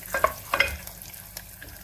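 Ginger, chillies and spices sautéing in oil while being stirred, a few clattering scrapes of a spoon over a light sizzle, close and quiet, no voices.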